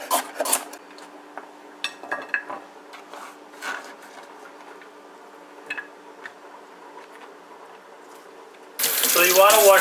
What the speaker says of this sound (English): So you want to wash out your bhaji leaves thoroughly